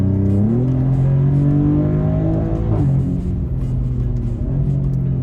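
A 2024 Maserati GranTurismo Trofeo with its Nettuno V6 pulls hard under acceleration, a loud steady engine drone rising in pitch through a gear change, heard from inside the car with no talk.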